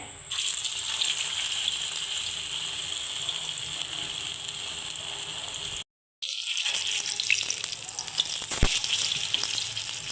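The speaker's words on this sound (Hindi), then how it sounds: "यहाँ पे देखें हमारा ऑयल जो है वो बिल्कुल गर्म हो चुका है। अब हम कबाब फ्राई करते हैं।" Chapli kebabs frying in hot oil, a loud, steady sizzle up close that continues evenly for several seconds, briefly cut off partway through and then resuming just as strong, with no voices.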